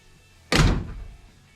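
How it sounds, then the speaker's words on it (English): One firm, heavy slam of a car door in a workshop, near and loud, its low thud ringing out briefly before quiet returns. "Door closes really nice."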